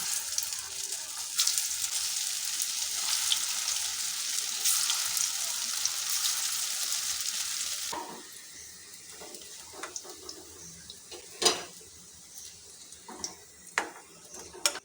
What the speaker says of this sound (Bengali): উল্টে পাল্টে খুব ভালো করে লাল লাল করে ভেজে নেব